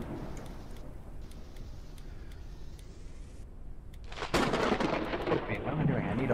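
Lightning strike and rolling thunder in the airship-building video game Forever Skies, a sudden loud crack and rumble breaking in over a steady rain-like wash.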